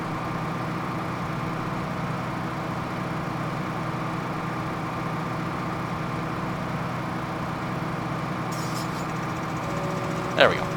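A tractor engine in Farming Simulator 2013 drones steadily at a constant idle-like pitch throughout, a continuous mechanical hum with a brief faint click near the end.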